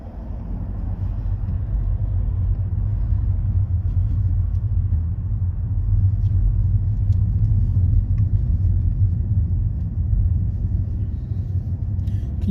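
A manual car rumbles along toward a roundabout, a steady low engine and road drone heard from inside the cabin, loud and unbroken with no talking.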